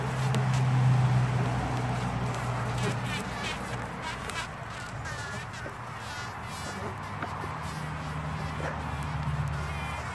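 Dense buzzing of many small jataí stingless bees close by, a continuous droning hum with shifting tones, alongside faint handling noise.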